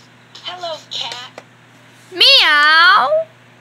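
A cat gives one loud, drawn-out meow with a rising then falling pitch, close by. Short bits of speech come just before it.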